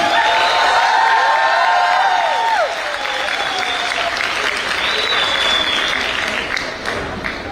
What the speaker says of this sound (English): Let's welcome on stage with a warm round of applause.